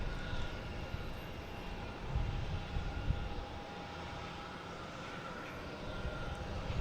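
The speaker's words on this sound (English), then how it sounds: "We have JetBlue taking off, heading to Denver, A220." A JetBlue Airbus A220 jet takes off, a steady broad engine roar heard from a distance at an airport, holding a constant level throughout with a slight swell.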